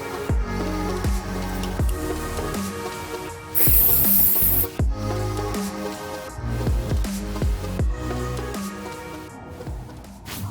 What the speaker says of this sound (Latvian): Mēs tikko iepūtam iekšā kontaktu aerosolu.